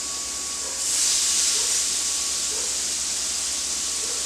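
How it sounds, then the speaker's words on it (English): Meat sears on an indoor grill set to about 400 degrees, giving a steady, close broadband hiss that swells after the first second and then holds evenly with no talking. "We're going to lay this down and get a good sear on it."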